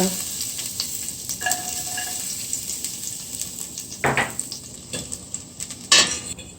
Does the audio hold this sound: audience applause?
no